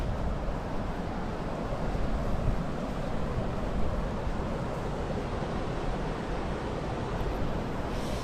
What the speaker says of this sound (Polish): Wiatr wieje teraz.